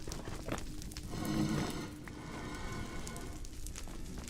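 Minecraft blaze mob sounds: a low, hoarse, rumbling breathing drone with crackling fire textures, rising to a louder swell in the middle and then settling into a steady murmur.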